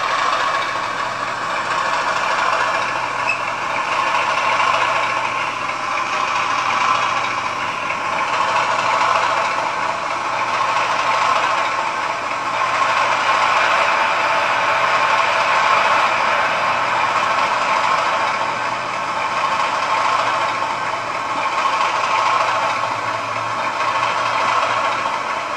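A Class 37 diesel locomotive in model railway simulation software, its engine droning steadily and evenly at moderate loudness throughout, with no talking.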